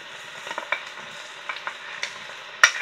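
Garlic and sliced red, green and yellow bell peppers are stirred in a pan for pizza topping. Soft scraping strokes sit over a faint sizzle, ending with a sharp clink of utensil on pan.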